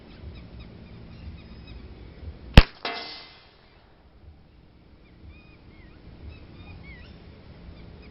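A single sharp crack from a Ruger 10/22 carbine fired at a target 50 yards away outdoors, with a brief ringing tail, then quiet breezy ambience before and after.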